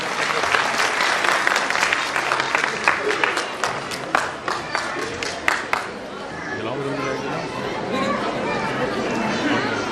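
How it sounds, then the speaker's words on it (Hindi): An audience at a school annual function applauds young children, a burst of dense clapping with cheers that fades after about six seconds into crowd chatter and murmuring. "नन्हे मुन्ने परिंदों के लिए तालियां बजा दीजिए बच्चे।"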